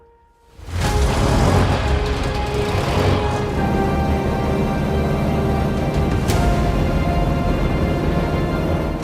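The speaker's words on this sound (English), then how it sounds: "Compressor engine back then, 100 years ago. I mean, the sound is amazing." A restored 1924 Mercedes Targa Florio racing car with a supercharged compressor engine starts up and then runs at a loud, steady, rich idle that stays close and continuous with no talk.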